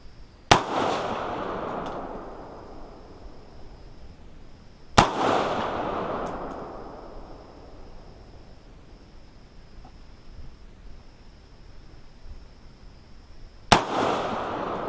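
Three sharp, loud 5.56 NATO rifle shots from a 20-inch upper with iron sights at an outdoor range, fired at 25 meters; each crack rings out with a decaying echo, separated by several seconds of quiet.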